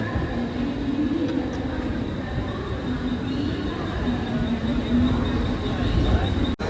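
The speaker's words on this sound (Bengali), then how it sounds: "তো ট্রেন ছেড়ে দিয়েছে গাইস" A departing train rumbles steadily and fairly loudly as it moves out of CSMT station in Mumbai, a continuous low roar with faint background voices.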